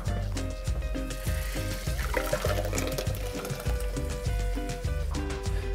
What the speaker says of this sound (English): Let's carefully pour this into a container here.